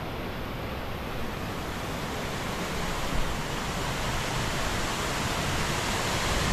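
Steady broadband roar of Mae Pan waterfall in Chiang Mai, a tall forest waterfall, heard as continuous rushing water that fills the scene without pause and with no voices.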